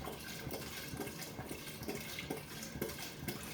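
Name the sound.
vodka pouring into container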